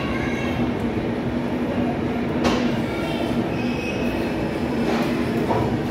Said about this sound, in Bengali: তোরা আমাদের ট্রেন ছেড়ে দিয়েছে কলকাতা স্টেশন থেকে।